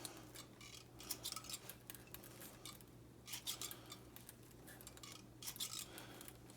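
A knife chopping fresh dill on a board in quick irregular bursts of light crisp taps, close and faint, clustered in short runs with brief pauses between, no talking.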